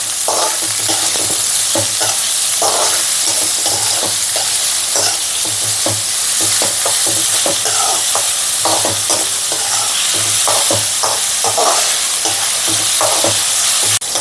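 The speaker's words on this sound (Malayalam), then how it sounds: "നമുക്കിതൊന്ന് വറുത്ത് കോരിയെടുക്കാം." Raw papaya pieces for pickle, seasoned with turmeric and salt, fry in hot oil while a spoon stirs them, giving a steady close sizzle broken by repeated scraping strokes throughout, with no talking.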